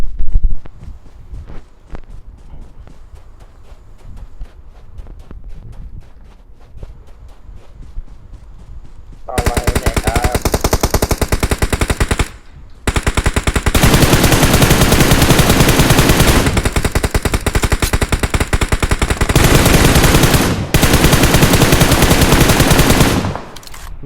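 Video game gunfire, opening with sparse shots and footsteps, then erupting into long loud bursts of automatic fire that cut out briefly and resume, close and dense.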